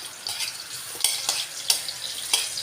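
Garlic frying in a pan for a sardine dish gives a steady, soft sizzle with a few brighter crackling bursts, fairly close and with no one talking.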